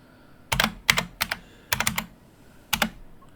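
Password typed on a computer keyboard: five close, quick clusters of crisp keystrokes separated by short pauses, set against a quiet room.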